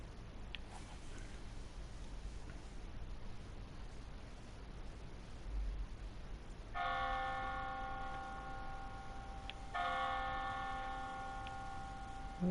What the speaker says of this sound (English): there's the church bells ringing there